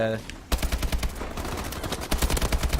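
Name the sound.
assault rifle gunfire in Call of Duty: Advanced Warfare video game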